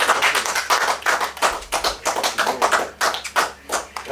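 Rhythmic clapping, close and fairly loud: quick, evenly spaced claps that keep a steady beat, with no voices over them.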